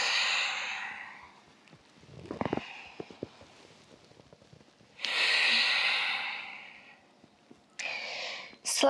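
Slow, deep breaths during a morning yoga flow: a long audible inhale and exhale close by, separated by quiet stretches with soft rustling movement.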